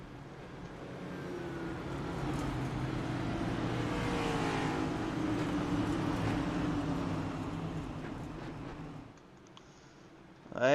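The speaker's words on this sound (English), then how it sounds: "the 92, that's Spencer Clark in the car warmed up, trying to warm those tires up" A race car engine in a Road America cup series racing video game drones steadily as the driver warms the tires, a sustained mid-distance motor hum that dips near the end before a sudden loud burst.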